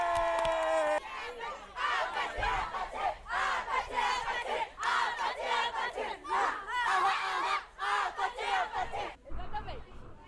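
A large crowd cheers and shouts loudly and continuously, a dense roar of excited voices rising and falling for several seconds.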